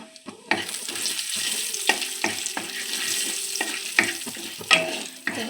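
Ground coriander, cumin and turmeric fry in oil in a kadai, a close sizzle punctuated by repeated sharp spatula scrapes and knocks against the pan.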